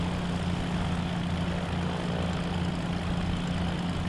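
Propeller airplane engine idling in the DayZ video game, a constant droning hum with a steady low tone, continuous and unchanging for the whole stretch, no voices.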